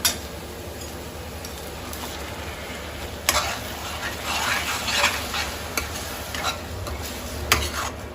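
Blended tomato cooks down with crushed ginger and garlic in a pan, giving a steady soft sizzle while a spoon scrapes and stirs, with a few sharp clinks against the pan.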